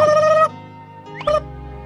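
A turkey gobbles loudly in a rapid warbling burst, then after a pause a second shorter gobble follows, with nothing else heard.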